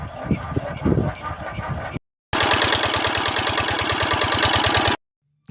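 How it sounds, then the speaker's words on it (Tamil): A Kirloskar diesel engine driving a water pump starts and settles into a loud, steady, rapid chugging, preceded by a few irregular knocks, with short gaps of silence. "இன்ஜின் நல்லா ஸ்டார்ட் ஆகிருச்சு."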